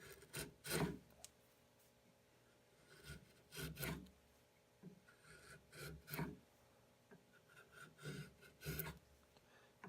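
A sharpened wood chisel pares shavings from wood in a series of short, close, rasping strokes separated by brief pauses, each cut scraping loudly against the grain.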